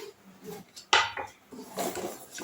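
Mung dal is dry-roasted in a saucepan on a gas stove, heard as a few scattered scrapes and metallic clinks of a spoon stirring against the pan, with one sharper knock, close and fairly quiet.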